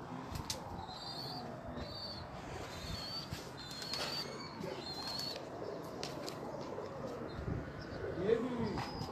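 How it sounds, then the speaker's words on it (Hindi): Paired pet pigeons coo softly at close range, with low repeated coos and a few chirps and wing flutters over a faint background murmur and occasional voices. "ये जोड़ों वाले कबूतर हैं जी"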